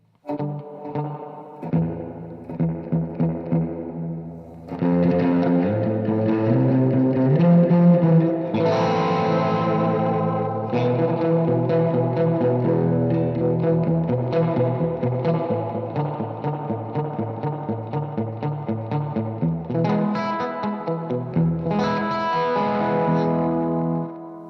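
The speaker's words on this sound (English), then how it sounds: "with tons of reverb like just now, it sounds more like the surf sound" Electric guitar played through a clean Fender amp drenched in heavy reverb, strummed chords and picked notes ringing out with a splashy, surf-style wash.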